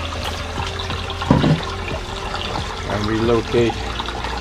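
Water flowing steadily through a DIY three-barrel moving-bed koi pond filter, a continuous rushing trickle close by, with someone talking over it.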